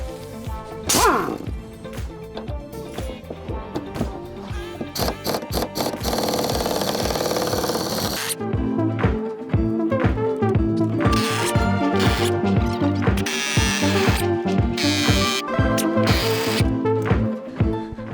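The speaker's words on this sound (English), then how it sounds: "is it necessary to be using a pneumatic impact gun?" A pneumatic impact gun removes the bench seat mounting bolts in a Ford Transit 148 van, firing loud close rattling bursts broken by short pauses and metallic clanks.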